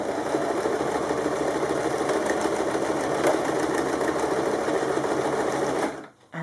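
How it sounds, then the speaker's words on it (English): A sewing machine runs steadily for about six seconds, reverse stitching over the tie of a kimono wrap top, with a continuous mechanical whir and rattle that cuts off abruptly near the end. "reverse stitch over the tie to make sure that it is nice and secure"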